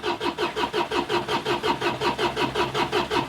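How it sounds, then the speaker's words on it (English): A Rover 75 diesel engine cranks without catching, the starter churning in a fast, even rhythmic pulse, about four beats per second, loud and close with no firing. "make sure there's diesel coming through because it doesn't want to start"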